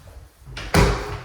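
A privacy door in a brand-new custom home swings and shuts with a short soft scrape followed by a firm, close thud and a brief rumbling tail.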